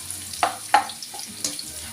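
Garlic sautéing in a pan while cooking ginataang tahong, heard as a few sharp crackles and pops over a faint, steady sizzle, close by with no talking.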